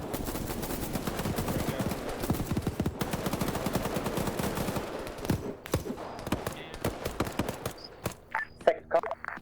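Gunfire in a tactical video game during an SCP device-securing operation: rapid machine-gun bursts rattle densely at first, then thin into sharper, scattered single shots, with voices faintly underneath.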